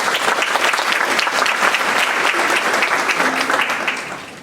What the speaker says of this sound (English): round of applause, parents, you're doing an excellent job with your students